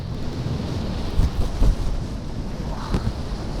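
Strong wind buffets the microphone while kitesurfing at sunset off Las Terrenas, a steady, roaring rush with low gusty thumps and surf-like noise, no voices.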